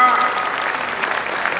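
A short burst of audience clapping at an Indian kavi sammelan poetry gathering, moderately loud and even, fading slightly from its start.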